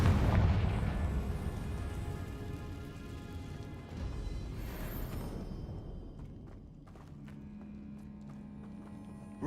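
A Confringo blasting spell in Hogwarts Legacy detonates with a loud, rumbling explosion that starts strong and decays into a crackling, debris-like tail, fading over several seconds.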